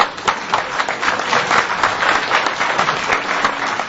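An audience at a debate bursts into sustained applause, dense clapping rising and holding loud and close for several seconds with no talk over it.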